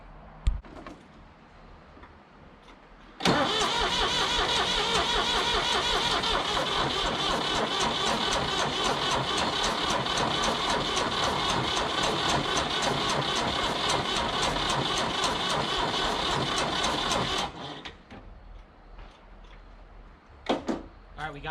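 A 1985 Ford 545A tractor diesel engine with a new injector pump cold-starts and runs loud and steady for about fourteen seconds before shutting off, with quiet clanks before and after.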